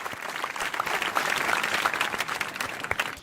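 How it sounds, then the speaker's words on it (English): A soft round of applause plays during a livestream, a fairly faint, even patter of many hands rising and lingering for a few seconds. "He said a super chat, round of applause"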